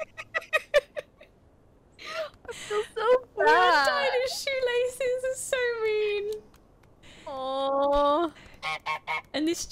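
Honking from the goose in Untitled Goose Game, quick sharp honks at the start followed by longer, wavering nasal calls. They sound close and loud and come mixed with bursts of voices.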